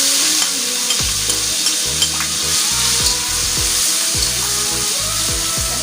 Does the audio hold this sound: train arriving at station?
no